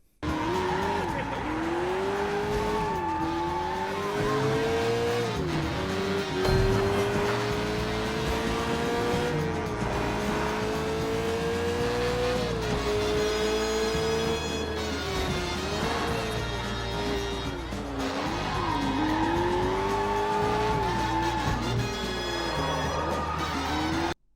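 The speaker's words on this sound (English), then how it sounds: "going around Hong Kong in a sports car at breakneck speed" Sports car tearing through Hong Kong streets in Sleeping Dogs: engine revving up and down through shifts, with tire squeals and skids, loud and close throughout, while a voice speaks over it.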